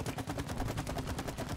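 Rapid gunfire in the co-op game It Takes Two: fast, regular bursts of shots repeat in a steady machine-gun rhythm, fairly quiet and with no talking.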